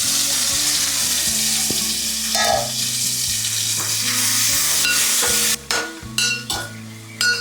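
Tomatoes sizzle steadily in hot oil in a pan for a dry fish and egg curry, a loud, continuous frying crackle with a few clinks of a utensil near the end.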